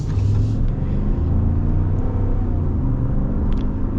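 A 2024 Ram 1500 Rebel pickup's engine rumbles steadily and loud, a deep low drone that holds evenly throughout with no talking over it.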